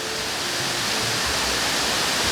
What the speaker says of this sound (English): we are finally here at the top of the Na Muang Waterfall too